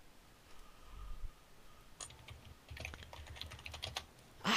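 Quiet keystrokes on a computer keyboard, starting sparse and then coming in a steadier run of soft clicks, close to the microphone with no one talking over them.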